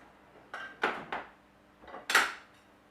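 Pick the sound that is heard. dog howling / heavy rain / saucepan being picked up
saucepan being picked up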